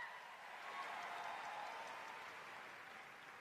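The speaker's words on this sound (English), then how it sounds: "Let's give her another huge round of applause." An audience at a Ruby seminar gives a speaker a sustained round of applause, a dense wash of clapping that swells slightly and holds steady.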